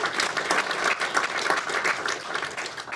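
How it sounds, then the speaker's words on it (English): At an annual awards presentation, a crowd breaks into full, dense applause for an honoree. Many hands clap in a loud, continuous, steady roar with no pauses and no speech over it. "Come on, we gotta get a round of applause for that."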